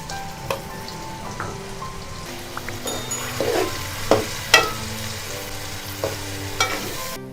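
Beef liver fries in a pan with salt, turmeric, and crushed and ground red chili while a spoon stirs it. A steady low sizzle runs throughout, broken by sharp scraping clinks of the utensil against the pan.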